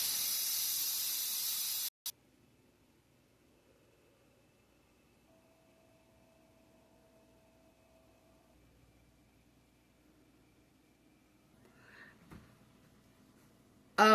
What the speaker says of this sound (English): Let the steam off of this, and that way we can check see if the beans are done.